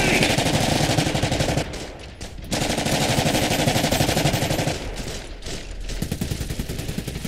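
Rapid bursts of machine gun fire in the Iron Harvest strategy game, loud and sustained with a couple of short pauses, with game voices calling out over the shooting.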